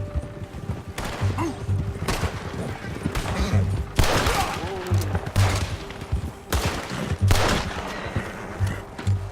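Repeated bursts of gunfire from a shootout with United States Army soldiers in the Western game Red Dead Redemption 2, loud volleys and single shots cracking across the whole stretch, with voices speaking between the shots.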